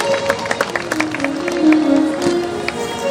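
A crowd claps steadily in honour of a teacher at a Chiruthala Ramayanam folk performance in Appannapet, with patterned clapping under a sustained tone and some voices.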